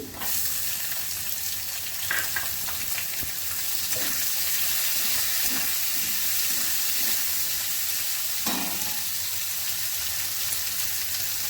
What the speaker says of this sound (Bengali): আলুটা একটু ভাজা হবে এখন আমি পেঁয়াজ কুচিটা দিয়ে দিচ্ছি